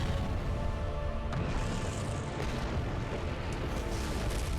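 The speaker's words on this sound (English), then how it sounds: "We got some help from the explosion." A dense, sustained rumbling roar from an explosion in the adventure video game Secret Files 2, loud and broadband throughout with a few brief louder bursts, no talking.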